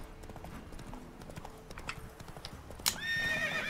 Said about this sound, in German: Wollte nicht springen, das Pferd.